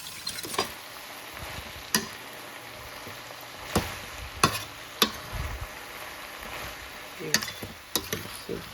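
Seasoning frying in hot oil in a covered pot while Jamaican fried dumplings and saltfish are cooked, giving a steady low sizzle broken by scattered sharp clinks and scrapes.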